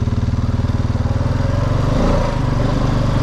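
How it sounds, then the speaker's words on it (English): A Honda Rubicon 500 ATV engine runs in D2, a loud, close, throbbing motor with a rapid pulse that shifts in pitch as it upshifts. "You can hear it upshifting early, whereas D1's made for more performance."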